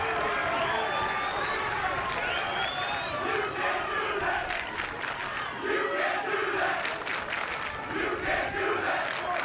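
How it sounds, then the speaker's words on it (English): A loud crowd of high school girls' soccer fans at a state championship match cheers and shouts continuously across the field, a dense roar with whistles and calls, while a commentator talks over it. "A loud crowd across the way representing T.L. Hanna."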